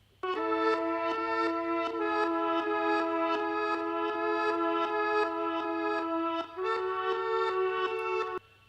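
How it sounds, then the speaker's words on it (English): A reversed guitar sample loops steadily, sustained swelling chords with rhythmic re-attacks and a brief break near the end, playing alone and prominently. "So the guitar reversed sounds like this"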